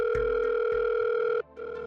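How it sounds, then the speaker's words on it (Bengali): An electronic telephone tone with a steady pitched ring and brief clicks, cutting out and then resuming, plays fairly quietly on its own as a landline call comes in. "মাসি ল্যান্ডলাইন থেকে ফোন করছে কেন?"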